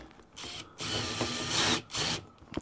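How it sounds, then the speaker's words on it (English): A drill cuts a chamfer into a pilot hole in a roof, in short bursts of a high, gritty whine, three separate runs with brief pauses between them, close by and alone. "Just going to use a bigger drill, just put a little chamfer on that roof."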